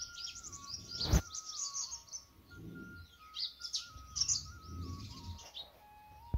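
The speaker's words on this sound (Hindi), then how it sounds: "चिड़िया अपनी भाषा में अपने साथियों को बुला रही है।" Birds in a village yard chirp and twitter continuously, with repeated high calls to companions, a sharp click near the start and soft low rustling underneath.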